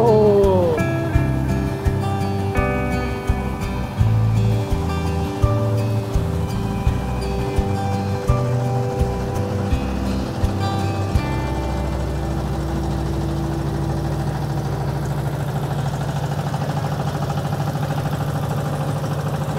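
A boat engine runs steadily on Kaptai Lake in Rangamati, a low continuous drone with a sustained hum that holds loud and near for the whole stretch, with no talk over it.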